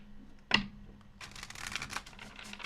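Tarot cards shuffled by hand at a reading table: one sharp snap, then a steady run of soft papery riffling and sliding, close and moderately loud with no talk.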